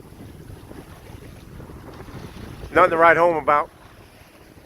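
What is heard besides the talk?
Oday 272 sailboat under full sail on a windy day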